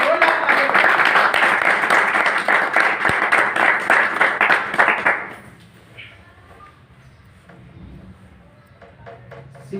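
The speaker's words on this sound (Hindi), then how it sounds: "एक बार श्री टीसी छात्रा जी के लिए जोरदार तालियां।" An audience at a business presentation bursts into loud, dense applause for about five seconds, then the clapping fades into quieter room sound with a few scattered claps.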